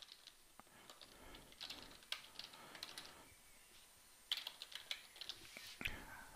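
Quiet, irregular keystrokes on a computer keyboard as text is typed into an app running in an Android emulator, with soft clicks in scattered bursts and short pauses between them.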